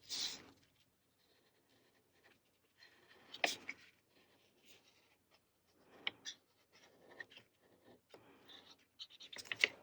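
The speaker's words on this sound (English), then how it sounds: "I'll use my marker and I can outline the rest of this heart" A marker scratches across paper while outlining a heart shape on a pop-up card, with faint intermittent strokes and brief squeaky scrapes separated by quiet pauses, close and soft.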